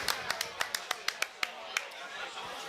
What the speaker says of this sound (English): we were the only ones clapping there